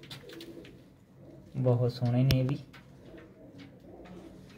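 Pigeons kept in pairs in a loft coo softly in the background, with someone speaking nearby over and between the calls.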